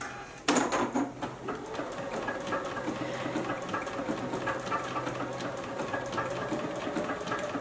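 A JUKI sewing machine stitches a beverage coaster in a steady, close, rapid mechanical run that starts abruptly with a sharp onset and continues evenly to the end, with no talking.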